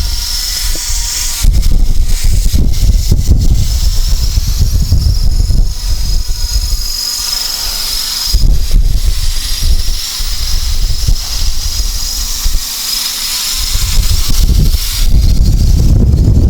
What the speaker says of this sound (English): So there it is, just holding itself in the wind.